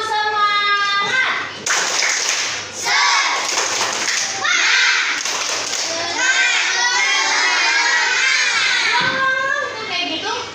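Schoolchildren in a classroom perform the Indonesian 'tepuk semangat' spirit clap chant, bursts of rhythmic group clapping mixed with loud children's chanting voices and thumps, with a teacher's voice between rounds.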